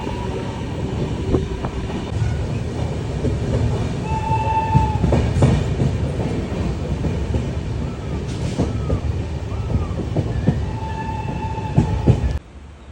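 A passenger train rumbles steadily along the rails, with a constant low roar and clattering, brief squeals and clicks rising over the noise.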